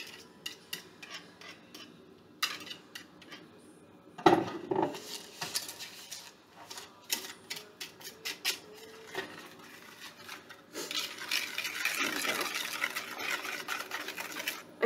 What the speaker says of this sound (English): Whisk in the butter, and I've got to stir this till there's no lumps